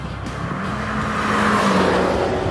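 A 2015 Alfa Romeo Giulietta 1750 TBi Quadrifoglio Verde with its 1.75-litre turbocharged four-cylinder engine and TCT gearbox gives a steady, rising engine and exhaust drone, fairly close and continuous, with no talk over it.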